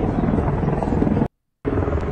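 Helicopter in a news clip of an aircraft crash involving Marines in Australia, a loud continuous rotor chop up close, cut by a brief silence before it resumes.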